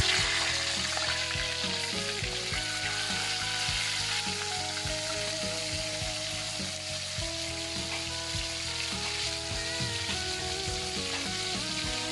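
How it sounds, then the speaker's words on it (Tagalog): Tulingan fish frying in hot oil gives a continuous dense sizzle and crackle throughout, heard under steady background music. "magpapainit na tayo ng mantika para sa ating piniritong isda na tulingan"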